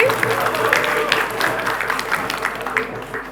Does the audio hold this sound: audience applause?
yes